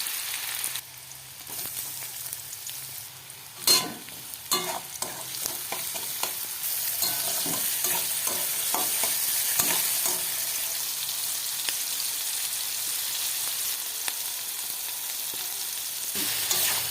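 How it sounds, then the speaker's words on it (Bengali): Sliced onions fry in hot oil in a wok with a steady crackling sizzle, punctuated by sharp clicks and scrapes of stirring, with no talking. "তারপর কড়াই একটু তেল নিয়েছি, তাতে পেঁয়াজ দিয়ে দিলাম"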